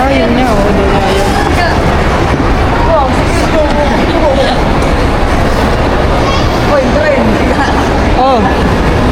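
Train ride with steady loud rumble and rail noise throughout, with people talking and crowd chatter over it.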